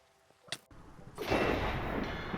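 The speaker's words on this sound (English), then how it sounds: "Oh, he died to the explosion." Creeper explosion in the Minecraft video game: a short click, then a loud broadband blast that swells and rumbles on for over a second, close and alone without talk.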